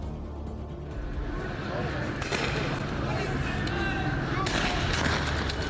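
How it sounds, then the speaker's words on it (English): LAPD officers fire non-lethal rounds during a street confrontation, a dense stretch of sharp, sustained pops and bangs over loud crowd and street noise, with people talking throughout. "LAPD firing non-lethal rounds, but they bounce right off this guy"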